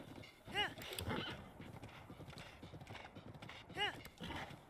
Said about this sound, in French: Ne domptez pas les chevaux comme ça, les enfants.